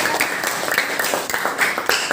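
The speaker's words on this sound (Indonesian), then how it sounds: "Oke, tepuk tangan dong." A small audience at an academic supervision coaching session claps steadily, a dense run of overlapping hand claps at moderate loudness lasting a couple of seconds with little talk over it.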